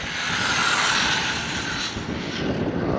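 Traxxas Rustler RC car on 3S with a Sidewinder 4 motor running wide open at full throttle, a steady loud high-pitched whine mixed with wind buffeting the microphone throughout.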